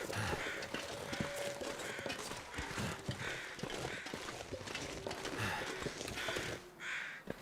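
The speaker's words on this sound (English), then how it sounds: "I can hear the crows, even if I can't see them." Crows caw repeatedly at a distance in the snowy wilderness of the video game The Long Dark, harsh calls recurring over a dense, steady ambient bed with rhythmic crunching footsteps.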